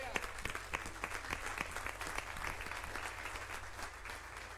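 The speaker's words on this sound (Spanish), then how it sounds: "Dele palmas al Señor." A church congregation applauds for the Lord with steady overlapping handclaps from a crowd, a low hum underneath and a voice speaking faintly over it, lasting several seconds.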